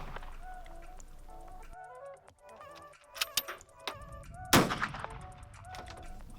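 A Steyr M95 carbine fires 7.62x54R PPU rounds outdoors, with a few sharp cracks spaced seconds apart and the loudest blast near the end among bird honks.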